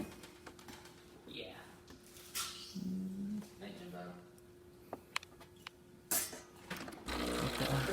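A Breville espresso machine runs after a full tune-up that fixed a buzzing fault, giving a steady low hum with clicks and short bursts and a louder rush near the end, with a person talking over it.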